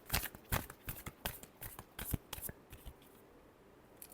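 A deck of tarot cards is shuffled up close, giving a quick run of crisp, riffling card slaps and flutters for about two and a half seconds before trailing off into quiet.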